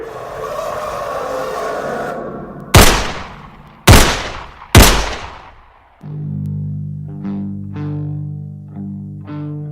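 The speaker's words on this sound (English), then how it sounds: "I fired the last 3 shots of the cylinder into his torso" Three revolver shots, the last rounds in the cylinder, crack out loud and close, spaced about a second apart after a dark rumbling ambience, then give way to a low sustained droning tone.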